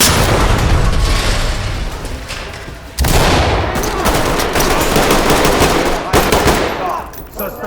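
A C2 breaching charge blasts in a tactical shooter game, followed by rapid bursts of automatic gunfire and booming impacts, loud and dense throughout with a second heavy burst midway.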